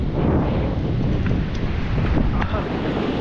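Strong wind buffets the microphone on an exposed coastal rock fishing spot in the Philippines, a loud, steady roar that runs unbroken through the whole stretch.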